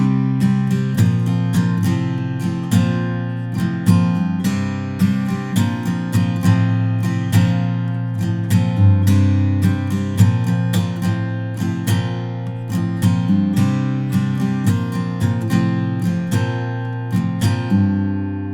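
A detuned acoustic guitar plays a pre-chorus, loud and close, with strummed chords and picked notes repeating in a steady pattern alone for the whole passage.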